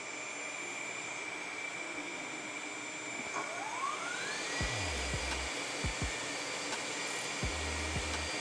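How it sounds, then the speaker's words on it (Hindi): Sharp Gold panel saw motor runs up and keeps up a steady whine with a rising tone, with a few dull knocks and thumps from the machine over the continuous hum. "ये मैं आपको मोटर चला के भी दिखाता हूँ। बिल्कुल साउंडलेस मशीन है हमारी"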